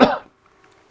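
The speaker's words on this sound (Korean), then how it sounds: "갑자기 막 기침이 나오네." A single sharp cough bursts out at close range, then fades quickly into near silence.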